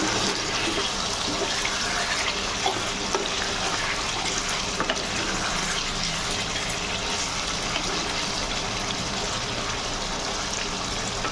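Duck meat fries in its own rendered oil in a pan, giving a steady, dense sizzle that runs unbroken and fairly loud throughout, with no voices.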